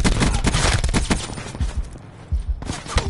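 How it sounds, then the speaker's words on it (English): PS4 video game gunfire in a rapid, dense fusillade of loud shots, thinning into scattered bursts before a final flurry. "Hey, they're shooting at me"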